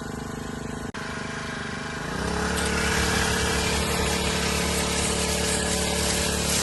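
A petrol-engine crop sprayer pump used on a pigeon pea field, running close with a steady buzzing drone that revs up and settles into a constant loud hum.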